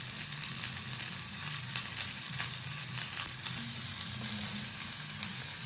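Chopped onion and green chili frying in a pan, a steady dense sizzle throughout with faint stirring scrapes, close and continuous, no voices.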